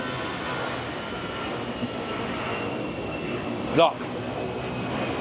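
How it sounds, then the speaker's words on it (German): A Condor passenger airplane taking off, heard as a steady loud roar of jet engines throughout, with a single brief spoken word over it. "Und doch schon sehr laut, wenn so eine Maschine startet."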